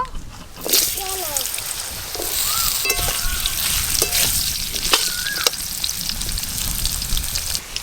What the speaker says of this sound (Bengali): ফোড়নে কালো জিরে দেব, তেজপাতা, কেটে রাখা আলু দেব,